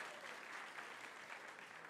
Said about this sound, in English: Give them all a round of applause, please.